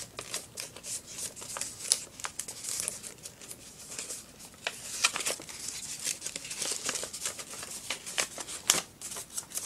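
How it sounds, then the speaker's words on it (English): Paper being folded and creased into a paper airplane, with soft crinkles, rustles and sharp crisp snaps scattered irregularly, close and fairly quiet, no talking. "Is this how you make a paper airplane?"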